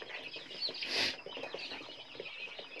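Free-range crossbred fighting chickens with striped heads cluck softly in a coop at night, a steady low murmur of short calls with one louder squawk near the middle.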